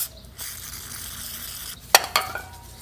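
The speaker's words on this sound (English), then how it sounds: "put them on there, saturate them with brake cleaner" Brake cleaner sprayed from an aerosol can onto the brake pad pins of a 2008-2012 Honda Accord during a front brake job: a steady hiss of spray runs most of the time, with a few short, sharper bursts near the end.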